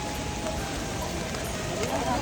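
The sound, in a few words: heavy rain on the Kedarnath trek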